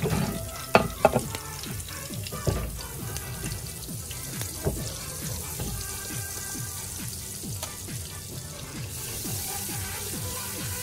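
Chicken cooking with garlic and butter in the pan it was fried in, a faint, steady sizzle broken by scattered crackles and soft stirring scrapes, with no speech.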